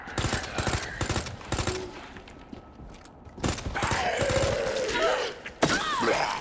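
Gunfire against zombies in Resident Evil 2, with several sharp shots spaced out among groaning and shuffling creature sounds, quieter stretches between bursts and a final loud crack near the end.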